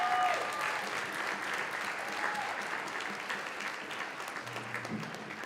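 Steady audience applause fills a performance venue, recognizing the backstage and makeup crew of a school production of Les Misérables; dense, continuous clapping holds at an even level throughout with no voices on top.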